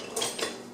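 Two quick, faint clinks of a decorative spatula knocking among metal kitchen utensils and pans, brief and close, with no voices.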